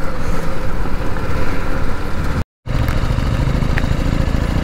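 An adventure motorcycle engine runs steadily and loudly while off-roading in a quarry near Hyderabad, with a brief dropout midway before the continuous rumble resumes.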